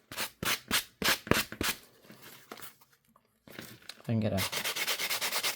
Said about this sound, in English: just sand it down a little bit